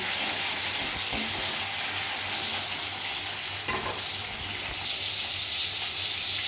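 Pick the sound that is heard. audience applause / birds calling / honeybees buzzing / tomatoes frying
tomatoes frying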